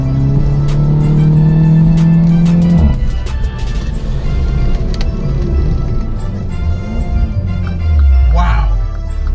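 A Mini Cooper S Convertible with a Remus catback exhaust pulls hard with a loud, droning engine note, then shifts and keeps accelerating with rising exhaust roar and a deep rumble near the end.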